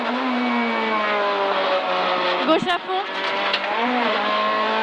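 A rally car's engine roars hard and steady at high revs on stage ES 6 of the Rallye de la Côte Fleurie 2026, with a brief shift dip and tyre noise midway, while a voice reads French pace notes over it.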